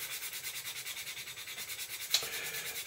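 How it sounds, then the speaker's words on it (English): A coarse sanding stick rubs back and forth over filler on a plastic model intake part, a quiet, rhythmic rasping of short even strokes, with one sharper scrape near the end. "I'm using a very, like I say, it is a rough, a very coarse grade of sanding stick"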